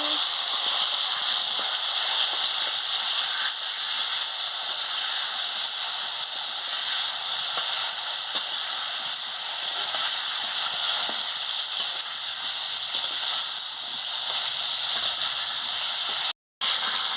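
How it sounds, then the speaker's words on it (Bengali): Potatoes and pointed gourd fry in hot oil in a pan, giving a loud, unbroken sizzling hiss that holds steady throughout with only a brief dropout near the end. "আমি তেল দিয়ে দিচ্ছি তেল গরম হয়ে গেছে আমি আলু আর পটল ভালো করে ভেজে নিচ্ছি"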